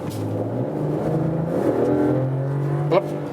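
A Mercedes E-Class All-Terrain wagon accelerates in sports mode from 60 to 80, its engine droning steadily with a rising hum and tyre and road noise, plus a brief sharp click near the end.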